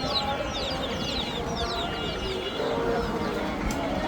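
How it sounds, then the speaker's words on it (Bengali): Chickens and ducks at a village livestock market give scattered chirps and clucks over a constant bustling crowd murmur. "দেশি মুরগি, হাঁস"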